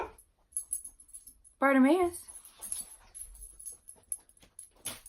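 A dog lets out a single high, wavering whimper near the middle, close and clear, amid quiet shuffling and a brief spoken word.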